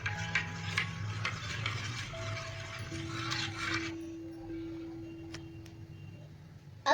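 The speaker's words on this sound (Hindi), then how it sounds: "अब हम मिक्स करेंगे।" Water mixed with food colour is stirred, giving a light, continuous scraping and swishing for about four seconds before it fades to near quiet.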